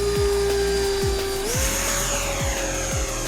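A Kavan L-39 Albatros 80mm electric ducted-fan RC jet with an outrunner motor screams past, a loud steady high whine that shifts upward in pitch midway, with rhythmic low thumps underneath throughout.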